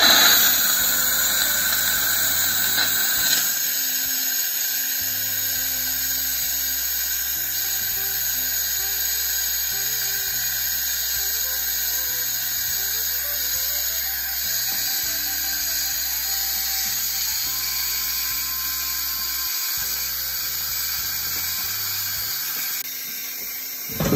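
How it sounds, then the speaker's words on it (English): An Instant Pot used for pressure canning beets vents steam in a quick pressure release: a continuous, loud, high-pitched hissing squeal that holds steady for over twenty seconds beneath faint mechanical hum. "So we're going to quick release the rest of the pressure."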